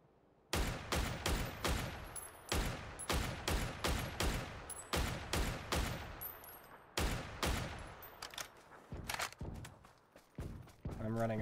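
Rapid bursts of video game gunfire from the player's weapon, crackling in dense clusters with short pauses over about eleven seconds, loud and close, with faint talk in the background.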